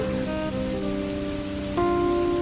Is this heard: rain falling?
yes